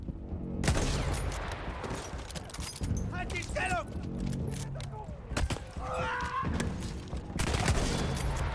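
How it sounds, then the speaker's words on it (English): Machine gun fire in Battlefield 1, bursts of German machine guns rattling continuously over a noisy battlefield, with whistling shells and brief speech-like sounds mixed in. "The dozen German machine guns at my back kinda encouraged me to keep my head down."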